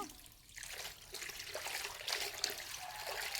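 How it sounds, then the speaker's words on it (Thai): Water trickles and splashes steadily while clothes are washed by hand, a close, continuous running flow with small sloshing bursts and no talking. "แม่ซักผ้าอยู่ลูกซักผ้าอยู่เอาเดี๋ยวล้นสั่นไปเลย"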